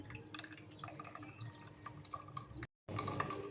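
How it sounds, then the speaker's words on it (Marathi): Water is poured into a glass of sherbet premix, a soft continuous trickle with light splashing and dripping, close and quiet, cut by a brief gap before the pour goes on. "पाणी टाकायचं आहे आपण याच्यामध्ये."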